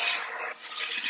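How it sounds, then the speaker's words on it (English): A steady, close abrasive hiss of a floor sanding machine on white oak flooring, with one brief dip before the rasping grind resumes. "excuse the noise. We got sanding going on."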